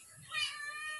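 A single cat meows once, a short, clear and fairly close call that rises and then trails off, heard alone with no talk.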